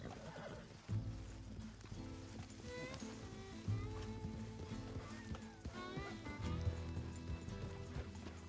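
Arthur's horse in Red Dead Redemption 2 whinnies loudly near the start, hooves clip-clopping steadily throughout over a dense bed of game music and ambience, with a few more sharp accents along the way.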